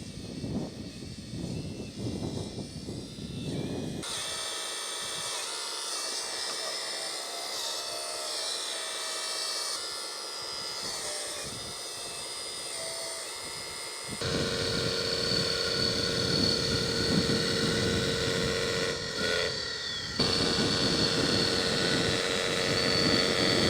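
A small RC bulldozer's electric motor whines steadily and continuously, shifting in pitch and intensity as the toy works, loud and close with no talking.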